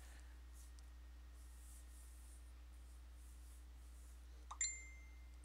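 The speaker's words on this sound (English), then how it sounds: "my phone is going crazy. You guys hear that?" A phone notification ding sounds near the end, a short bright chime with a ringing tail, standing out over a faint steady hum in an otherwise quiet room.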